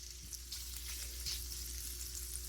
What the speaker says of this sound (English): Once your oil's heated, add in 14 ounces of sliced, fully cooked andouille sausage.